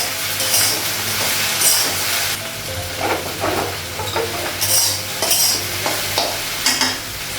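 Okra frying in oil in a home kitchen pan, with a continuous sizzle under repeated scraping stirs and occasional light clinks of a spatula against the pan. No one speaks.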